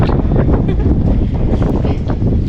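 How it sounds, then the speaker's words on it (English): Strong wind roars through a tunnel and buffets the microphone continuously, a loud, steady rumbling rush with no pauses. "Windy tunnel."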